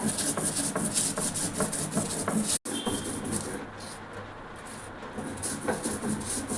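Black cumin seeds ground with salt on a flat stone slab with a grinding stone, a steady close scraping rub of repeated back-and-forth strokes with one brief break in the middle.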